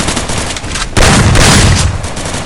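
Gunfire and grenade blasts in a multiplayer shooter, with a dense, loud burst of shots and a booming explosion that starts about a second in and holds over steady background noise.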